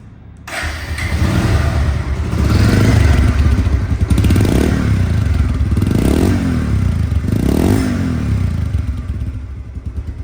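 A used 2023 Pulsar double-disc motorcycle engine starts and idles loudly up close, its throttle blipped in a few rising revs.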